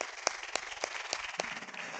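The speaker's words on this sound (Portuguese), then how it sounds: "Então quero que vocês aplaudam por todos que tentaram responder" A small class audience gives a short round of applause, about five sparse, separate claps in quick succession, faint against a quiet room.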